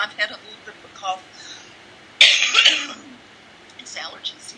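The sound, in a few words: cough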